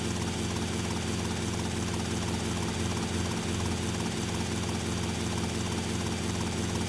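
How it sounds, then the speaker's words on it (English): A police helicopter flying in a video game, its rotor and engine producing a steady, loud, continuous whirring drone throughout, with no speech. "that's the police helicopter"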